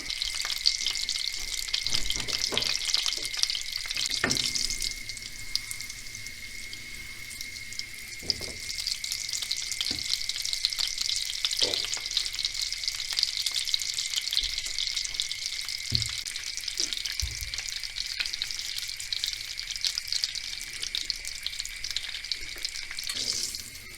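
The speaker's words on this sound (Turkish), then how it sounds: "Şimdi eriteyim tereyağımı" A tablespoon of butter melts in half a tea glass of vegetable oil in a pan for green lentil rice pilaf, giving a steady close sizzle and frying crackle with occasional louder pops.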